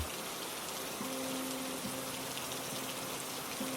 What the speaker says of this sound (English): Rain drifts through the palms, fine as veil thread, soft as breath upon the skin